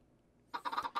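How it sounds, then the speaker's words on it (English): Minecraft chickens in the All The Mods 7 modpack give a short burst of quick, clipped clucks after a moment of near silence, faint and close. "So we got two chickens."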